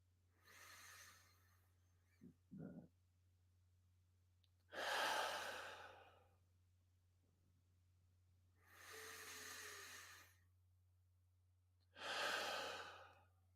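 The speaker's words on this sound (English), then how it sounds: "Let's breathe in." Slow, deep breaths drawn in and let out through the nose, four long airy hissing breaths spaced several seconds apart, close and quiet, with a couple of small clicks early on and no talking.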